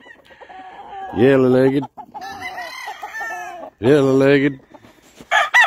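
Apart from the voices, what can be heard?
rooster crowing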